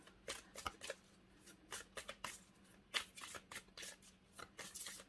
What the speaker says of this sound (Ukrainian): Давайте я їх ще так перемішаю, щоб в нас були ще й перевернуті позиції.